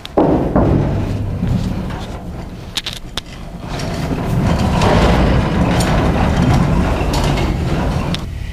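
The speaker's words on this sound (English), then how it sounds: "Rolling this thing around is just as easy as you're hoping it's going to be." A car body rotisserie converted to a rolling body cart is pushed across a shop floor, a loud continuous rumbling roll of casters with occasional metallic clanks and rattles, near and steady.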